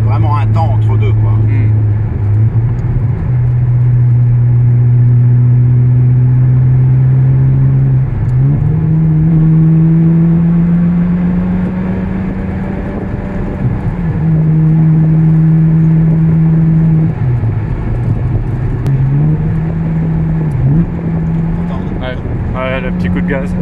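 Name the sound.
Ferrari 360 engine revving with F1 gearbox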